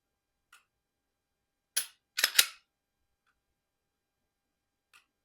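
Sharp mechanical clicks from a S&W M&P Shield Plus 9mm optic-ready pistol as its trigger breaks and resets, a few crisp isolated snaps close up in a quiet room, with faint ticks before and after.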